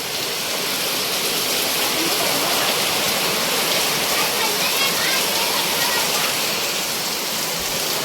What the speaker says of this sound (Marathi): आडच पाऊस पाऊस आडच पाऊस जाम बेकार पाऊस पडतो बघा पाऊस बघा काय